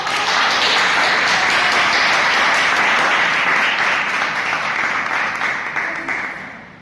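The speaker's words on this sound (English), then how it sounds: "Round of applause for every one." An audience at a Toastmasters club meeting applauds loudly and steadily for several seconds, the clapping dense and sustained before tapering off at the end.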